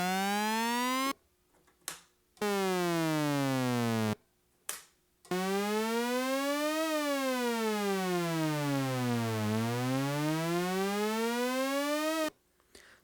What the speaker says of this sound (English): I guess you could do a siren of sorts